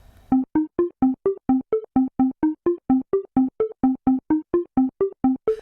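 A bright synth arpeggio plays short, clipped staccato notes in a steady, even rhythm, each step cutting off sharply before the next.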